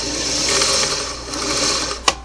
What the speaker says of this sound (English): you're going to continue to wind at a steady pace